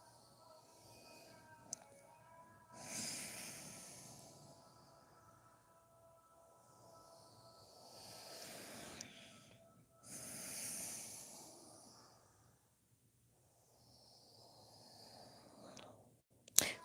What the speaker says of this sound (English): Inhaling and exhaling through our nose.